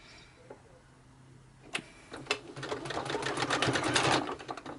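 A sewing machine runs a zigzag stitch, starting after a couple of sharp clicks and then rattling steadily and fairly loudly in a fast, even rhythm, close up and alone.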